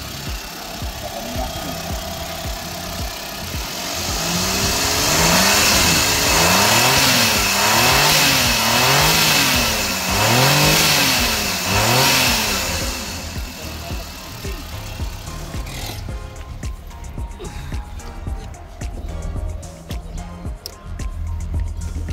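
A Nissan Roox turbo car engine revs up and down repeatedly in rising and falling surges, loud and close, then drops back to a rough idle with clicking noises.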